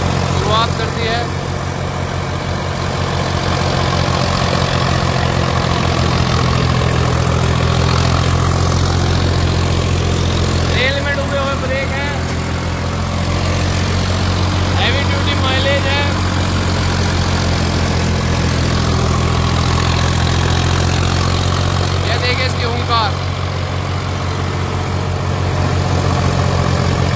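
A Sonalika RX 50 DI tractor engine drives a thresher, a steady loud drone with a strong low hum that runs continuously, while someone talks over it throughout.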